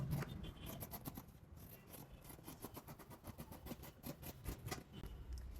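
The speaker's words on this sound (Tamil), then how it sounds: "இங்கேருந்து இதை அப்படியே கட் பண்ணி எடுத்துடலாம்" Scissors cutting fabric for a cowl sleeve, a quick run of rhythmic close snips and crisp blade rasps, steady and unaccompanied by talk.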